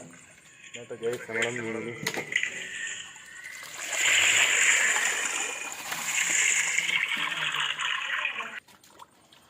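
Fish are tipped into a tank while cleaning a home fish pond, producing a sustained rushing splash of water near at hand after a voice talks briefly at the start.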